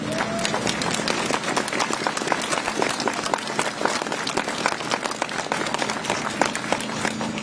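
A crowd applauding at a hospital rally, dense continuous clapping throughout, loud and close, with faint voices underneath.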